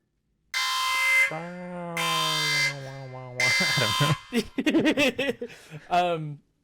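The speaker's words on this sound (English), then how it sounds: "sound the alarm" Alarm sound effect from a Cloverfield-themed segment: a loud, sustained electronic alarm tone sounding in several long blasts, followed by a rapid series of shorter pulsing beeps.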